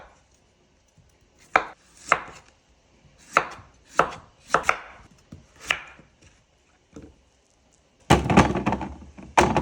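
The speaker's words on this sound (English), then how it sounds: "Radish, make sure you cut them nicely and peel them nicely." A knife chops radish on a cutting board while preparing pho, giving about ten close, crisp thunks at an uneven pace, then a dense, rapid burst of chopping near the end.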